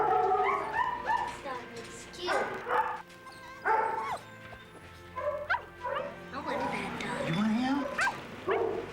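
A puppy yips, barks and whimpers in repeated short bursts close by, with brief pauses between the cries.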